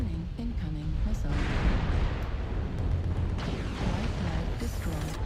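A dense, rumbling missile strike explosion in MechWarrior Online rolls on as sustained loud blast noise with booming low end, filling the whole stretch without pause.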